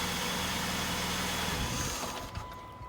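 A 2001 Saturn SC2 car engine blipping briefly and then settling to a steady idle, heard close but fairly quiet, with a faint click near the end and no talk.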